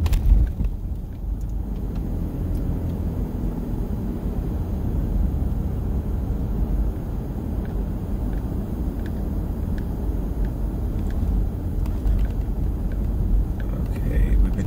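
A car driving through the Bahraini desert, heard as a steady low rumble of engine and road noise from inside the cabin, continuous and moderately loud, while people talk over it.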